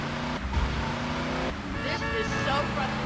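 Car driving through the streets in GTA Vice City, a steady engine hum with passing traffic and in-game music, with a voice talking over it throughout.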